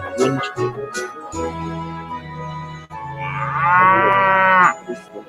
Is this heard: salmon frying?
no